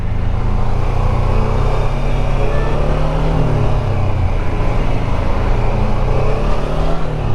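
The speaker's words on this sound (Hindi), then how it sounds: "पुल तो बढ़िया है नो डाउट, बट रेस्पॉन्स एकदम क्विक नहीं आ रहा है मेरे थ्रॉटल करने में" A BMW F450 GS motorcycle engine under throttle while riding, a loud continuous drone with gradual pitch rises, mixed with strong wind rush.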